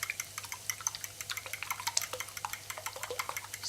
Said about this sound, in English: Beat up your eggs.